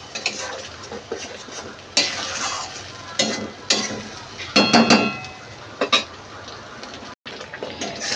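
Hilsa fish cooks in mustard paste in a pan, a spatula stirring and scraping in repeated bursts over a soft sizzle, with metallic clinks of utensil against pot.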